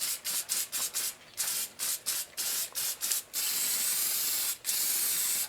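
Permatex high-tack sealant being sprayed in a light coat on Willys CJ3A transfer case parts: a string of short, sharp aerosol hisses in quick rhythm, then two longer continuous sprays, close and clear.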